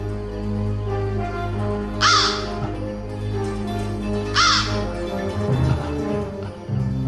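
A crow gives two loud, harsh caws a couple of seconds apart over a steady humming background, with faint rustling afterward.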